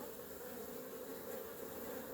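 Honeybees at a hive give off a steady, even buzzing hum that stays close and constant, with no voices.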